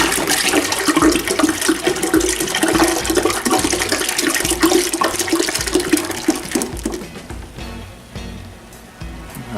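Must is poured into a mix of hot water and spring water for a mango mead. A loud, continuous gushing pour runs throughout and eases slightly near the end, with no talk.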